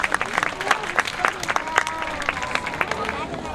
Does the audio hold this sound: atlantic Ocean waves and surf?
no